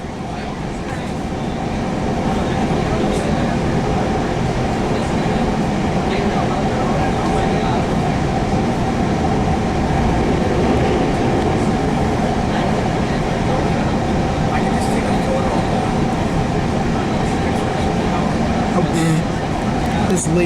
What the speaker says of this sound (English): That was the train ride.